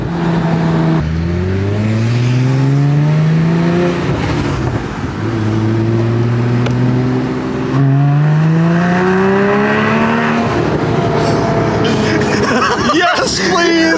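A 2016 Porsche Boxster Spyder engine revs hard while driving, pitch climbing through repeated loud pulls with shifts between them, close and dominant, with voices talking over it at points.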